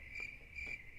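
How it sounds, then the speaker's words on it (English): A cricket chirping sound effect plays alone: two short, bright trills over a faint steady hiss, evenly spaced and fairly quiet. "hearing crickets because we didn't have one"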